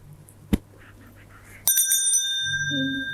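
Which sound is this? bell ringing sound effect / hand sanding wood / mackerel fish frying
bell ringing sound effect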